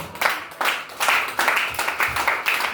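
A church congregation claps hands in praise of Jesus, steady repeated clapping in loud rhythmic bursts filling the room, with faint voices mixed in.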